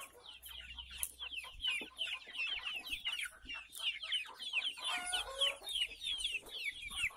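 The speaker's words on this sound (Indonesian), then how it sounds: "ini ayam-ayam pada lahap" Free-range village chickens feeding on water spinach, with a busy chorus of soft clucks and chirpy peeps at close range, plus faint pecking and rustling beneath, continuous and fairly quiet.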